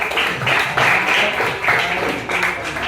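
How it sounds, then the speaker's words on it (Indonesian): A classroom of students applauds a quiz winner, with steady group clapping that swells in short rhythmic waves, fairly close and filling the room. "Kita tepuk tangan untuk Dwi Andika."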